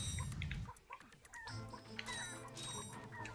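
Chickens cluck in the Ratchet & Clank video game, a few short clucking calls mixed into busy game effects and music, fairly quiet overall.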